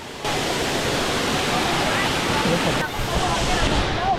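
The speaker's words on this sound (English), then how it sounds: "You can see the natural spring water run through the pools." Natural spring water running through crowded resort pools, a steady broad rush of flowing water close by.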